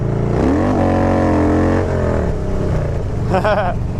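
A motorcycle engine revs hard at a stoplight for a burnout, its pitch sweeping up and dropping back in a loud close roar.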